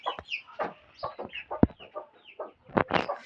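A hen clucks near her chicks, a quick irregular series of soft, close clucks and short chirping calls.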